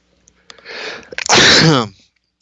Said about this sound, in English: Feel a little sneeze coming on it.